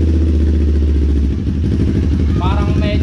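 A Kawasaki Ninja 400 engine fitted with an aftermarket muffler runs steadily, a loud, close, continuous throbbing exhaust note with a brief dip in pitch before picking up again.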